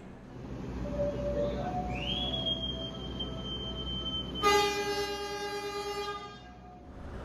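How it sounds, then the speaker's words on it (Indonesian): Logawa passenger train departing Jombang station, with a long harmonic horn blast near the end over steady rumbling engine and platform noise, preceded by a rising tonal whine. "Jam 13:49 kereta Logawa diberangkatkan kembali dari stasiun Jombang"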